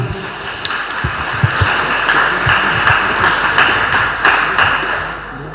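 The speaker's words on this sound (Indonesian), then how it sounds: "Tepuk tangan buat kita semua" An audience at an Islamic religious lecture claps together in a continuous, moderately loud patter with scattered sharper hand slaps, and no talk over it.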